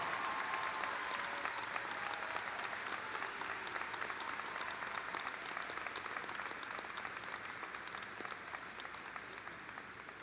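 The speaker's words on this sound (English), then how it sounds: "A round of applause for the service and protection of Kane." Graduation audience at a high school ceremony breaks into sustained applause, a dense wash of many hands clapping steadily for ten seconds at fairly even loudness, fading slightly toward the end.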